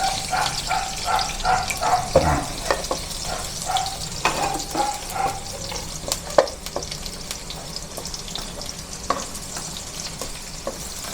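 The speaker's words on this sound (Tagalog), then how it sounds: "Papulahin muna po natin yung ating sibuyas at bawang." Pork sizzles and fries with onion and garlic in a pan while a spoon stirs and scrapes in repeated strokes; the steady crackle runs throughout, with a brief splash of water near the start.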